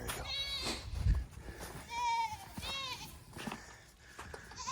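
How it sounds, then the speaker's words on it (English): Goats on a farm in winter bleat in several wavering calls, fairly close, against low background noise and some handling sounds, with a person talking briefly in between. "those goats didn't know where they were"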